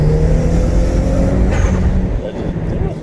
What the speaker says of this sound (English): these tires can't even grip